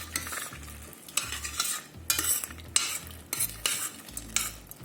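Peppers are stirred in oil in a pot, a gentle sizzle under repeated scraping strokes of a spoon against the metal, close-up, in uneven bursts.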